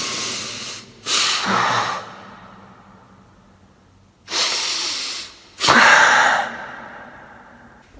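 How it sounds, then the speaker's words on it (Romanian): Someone breathes heavily and slowly inside an underground parking garage. Four loud, close breaths in and out echo in the empty concrete space, with quiet pauses between them. "Se aude până și ecoul de la respirația mea."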